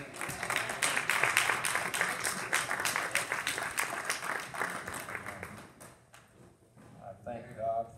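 A church congregation claps hands in praise, a dense burst of applause that swells then fades after several seconds, followed by a brief voice at the end.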